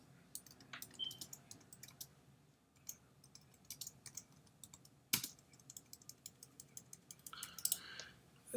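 Notes being typed on a computer keyboard in a quiet room, a faint, steady patter of key clicks that comes in short runs with brief pauses, plus one sharper click partway through.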